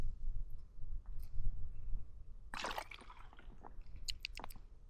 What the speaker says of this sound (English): you press through and the water that comes out is filtered